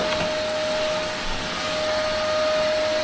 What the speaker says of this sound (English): We don't want these many butterflies in the grain though, so I'm gonna vacuum it.